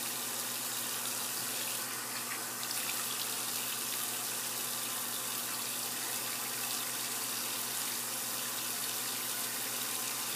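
Steady running water from a bathroom sink faucet while someone rinses off after shaving, a continuous close hiss and splash with no pauses and no talking.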